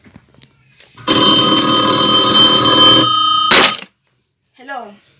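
An old-fashioned telephone bell rings loudly and continuously for about two seconds, then a second short ring follows after a pause, in a quiet room; a voice briefly speaks afterward.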